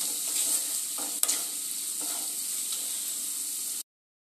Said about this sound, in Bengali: সেটা দিয়েও ঠিক একইভাবে একটু নাড়িয়ে চাড়িয়ে নেব